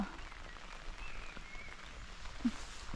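Heavy rain on a misty mountaintop over wet grass, a faint, steady hiss of falling water with no talking.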